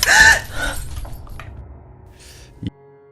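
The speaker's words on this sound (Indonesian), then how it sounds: "sampai akhirnya terdengar suara seperti ada gelas yang pecah" Glass shatters at a house at night, a sharp bright crash at the start with scattered tinkling fragments trailing off into quiet, followed by a small knock.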